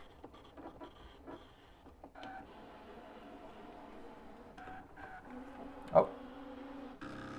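A Brother ScanNCut DX cutting machine runs quietly, a low steady mechanical whir with soft tonal motor hum and small clicks, one brief louder clunk near the end.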